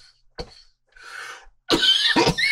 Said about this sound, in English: Can get deep into the lungs and cause that coughing